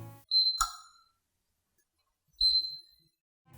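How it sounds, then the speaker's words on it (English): A PS4 console sounds two separate short, high electronic beeps about two seconds apart, each clean and alone with a brief click, as the power button is held to start it in safe mode. "press and hold the power button until you hear 2 beeps"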